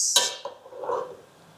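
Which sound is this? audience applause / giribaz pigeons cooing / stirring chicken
stirring chicken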